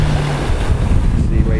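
Ocean waves washing up onto the sand at Darkwood Beach, Antigua, a loud continuous surf roar mixed with heavy wind buffeting the microphone.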